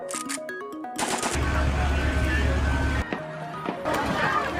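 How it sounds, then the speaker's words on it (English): Gunfire in played news footage of a police shooting, heard as loud bursts of shots over noisy, dense background sound, with voices present. "Shots fired."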